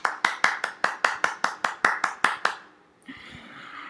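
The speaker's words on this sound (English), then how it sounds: "can we give him a big round of applause" Sharp, evenly spaced handclaps, about a dozen in quick rhythm, close to the microphone in an online webinar, ending after two and a half seconds before a short burst of background noise.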